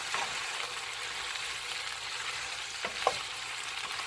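Kielbasa, mushrooms and vegetables frying in a skillet, a steady hiss and sizzle throughout with a couple of brief scraping stirs near the end, no voices.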